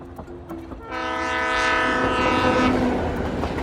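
A slow green passenger train in the Daliang Mountains of China passes nearby with a long, droning horn over the rumble and rattle of wheels on the tracks.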